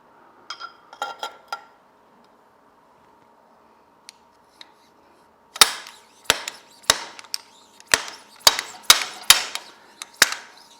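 Fork seal being driven into a 43mm inverted front fork on a Harley FXLRST with a seal driver: a few light metallic taps, a pause, then a run of about ten sharp, loud ringing strikes, close up, no talk.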